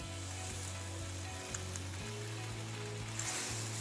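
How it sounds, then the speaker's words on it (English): Salmon topped with parsley sizzling in a frying pan, a faint continuous hiss and crackle with a low repeating hum underneath, no one talking. "We're gonna let that sizzle."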